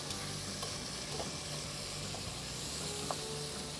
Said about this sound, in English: I hope you can hear the sizzle